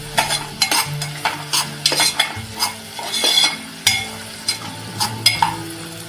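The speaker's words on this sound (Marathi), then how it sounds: "आता आपण त्याच्यामध्ये कांदा टाकणार आता आपला हा कांदा सुद्धा चांगला शिजून घ्यायचा आहे" Chopped onion cooking in a pan for an okra and prawn curry, a soft ongoing sizzle broken by rhythmic scraping strokes of a spoon stirring, close up with no speech.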